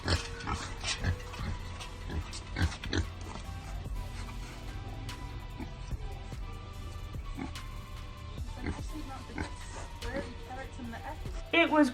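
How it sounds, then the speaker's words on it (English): A pet pig snuffles and grunts in short bursts at close range, sometimes under and between people talking in a busy room, with a louder burst of grunting near the end. "Now she has a pet pig."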